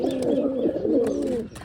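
Pigeons kept in a loft coo continuously at close range, a rolling, throaty warble with no talk.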